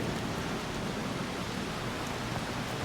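Steady rain falls on a farm in summer, a dense, even hiss of drops with no other sound and no voices.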